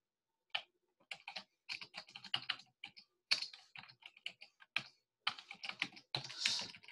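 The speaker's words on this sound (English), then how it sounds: "I probably made some mistakes on that typing there" Someone types on a computer keyboard, entering a git clone command, in quick irregular bursts of clicking keystrokes separated by short pauses, close and clear with no speech.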